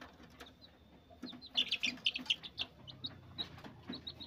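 Chickens cluck nearby with a brief flutter of wings, soft scratchy rustling and occasional chirpy calls, fairly quiet overall.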